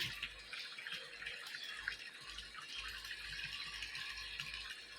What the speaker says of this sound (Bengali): ট্যাঙ্কির জল একটু কম আছে, তাই জল দিচ্ছি।